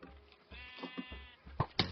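A cow in the Minecraft video game cries out as it is hit, a pair of drawn-out bleating, mooing animal calls followed by sharp hurt squeals, fairly close and with no talking.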